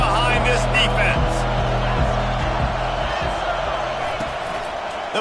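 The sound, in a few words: stadium crowd cheering at an American football game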